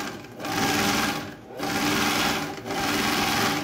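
Straight-stitch sewing machine running through fabric in close, continuous whirring bursts with brief dips between them, loud and alone.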